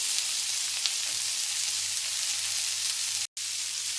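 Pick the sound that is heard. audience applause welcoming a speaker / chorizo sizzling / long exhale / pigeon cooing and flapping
chorizo sizzling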